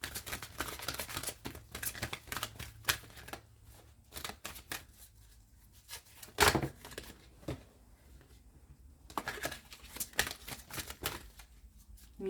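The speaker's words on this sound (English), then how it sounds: "Let me keep shuffling." Tarot cards being shuffled by hand during a reading, with repeated riffling bursts and quick flicks at close range, some passes longer and busier, separated by brief quieter gaps.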